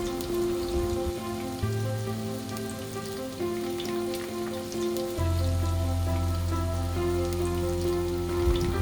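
Crushed ginger, garlic and curry leaves sauté in hot oil for a Kerala red fish curry, a steady dense sizzle and crackle that holds constant throughout with a low hum underneath.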